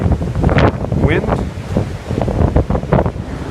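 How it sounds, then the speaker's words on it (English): Strong storm wind roars and gusts across the microphone at a marina, loud and continuous, with waves surging underneath and a voice briefly audible. "I can't believe the sound of the wind"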